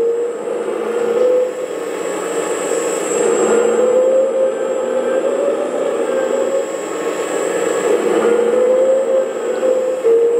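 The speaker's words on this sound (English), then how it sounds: "That's the moving and the engine sound." Simulated diesel engine sound from a 1/14 scale LESU 374F RC hydraulic excavator's sound system, a steady droning hum that rises and falls slightly in pitch, loud and close, with no talk.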